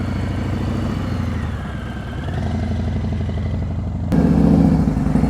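A motorcycle slowing to a smooth stop on the rear brake during slow-speed riding practice: a steady, close, rumbling engine hum throughout, growing slightly louder and rougher near the end, with no talking.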